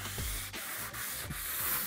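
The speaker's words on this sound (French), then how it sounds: "C'est vraiment, on va dire, un ponçage fin." Rhythmic back-and-forth fine sanding strokes rasp against wall filler on a wall, close up, in quick repeated passes with no voices.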